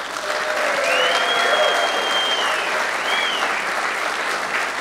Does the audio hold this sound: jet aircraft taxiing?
no